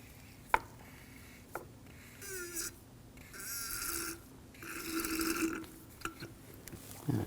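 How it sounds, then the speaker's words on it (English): A hand-operated fluid extraction pump drawing old DOT3 brake fluid from the reservoir of a 2015-2022 Chevrolet Colorado: a couple of sharp clicks, then several gurgling, slurping suction pulls of a few seconds each, close and alone. "we're going to use a clean fluid extraction pump and just get as much of the old brake fluid out as you can"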